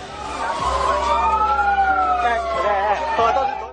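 Fire engine sirens wail at the scene of a high-speed train crash rescue at night in heavy rain, a loud rising and falling tone sustained throughout with low traffic rumble beneath.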